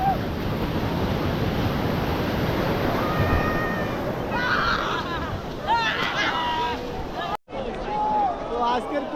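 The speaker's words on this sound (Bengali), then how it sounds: "যে পরিমাণ ঢেউ, সত্যি অসাধারণ ঢেউ আসছে" Sea waves wash and break steadily on Kuakata Sea Beach in Patuakhali, Bangladesh, a continuous surf roar mixed with wind noise on the microphone, with scattered voices and children's calls from the beach nearby.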